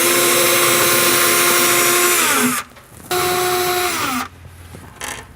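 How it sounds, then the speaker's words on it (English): A loud power drill whirs steadily, winds down, then spins up again in a second burst before stopping, with a brief third whir at the end, while a corner cabinet organiser is installed. "from here you can drill in place"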